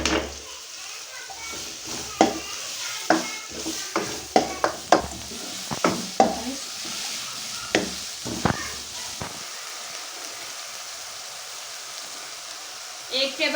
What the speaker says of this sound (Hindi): अब मैं डाल दूँगी प्याज़ों को और सब्ज़ मिर्च। ये थोड़े से फ्राई कर लेंगे हम।